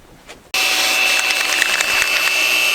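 After a moment of quiet, a power polisher working the paint on a Mazda Miata starts abruptly and holds a steady, close, loud whirring hum with slight rubbing variations.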